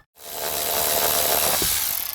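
A right-angle drill whirs steadily while driving out door hinge pins, a continuous grinding, ratcheting mechanical buzz close by that holds for about two seconds and then cuts off.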